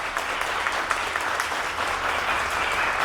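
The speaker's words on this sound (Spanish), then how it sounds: "Un fuerte aplauso para nuestros poetas." Warm applause for poets at a street poetry event in Ambato, dense steady clapping from an audience that holds for the full few seconds.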